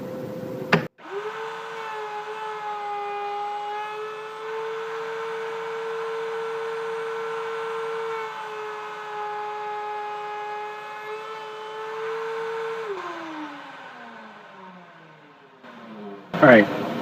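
A router cuts grooves in a wooden serving tray held against the fence, whining at a steady pitch for about twelve seconds before spinning down, ending with a thump.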